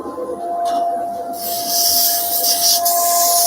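A turned wooden bird-shaped box is sanded on a spinning lathe, giving a steady, close rasping hiss over a constant motor whine; the hiss grows louder and brighter about halfway through and continues without a break.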